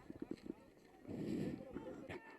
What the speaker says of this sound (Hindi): रूप सिंह जी घोड़े पर सवार होकर ये देखिए खुशी से घुड़दौड़ कर रहे हैं